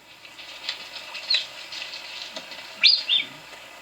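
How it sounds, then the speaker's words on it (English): A female cougar and two subadult males call back and forth in the wild, giving short, high, bird-like chirps and whistles, some faint and a few sharper and louder, scattered over quiet background. "So this is a female lion, and then her 2 subadult males coming in, and they're talking to each other."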